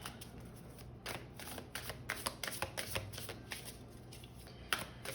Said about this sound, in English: These cards are, the card stock is a little bit interesting, so they're a little more awkward to shuffle with